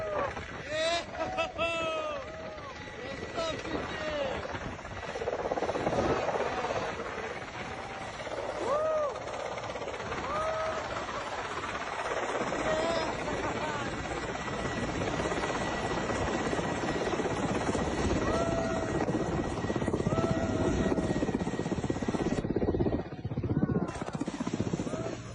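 Helicopter rotor blades spin at speed, producing a continuous loud, pulsing whir with engine whine that carries throughout, with a voice talking over it.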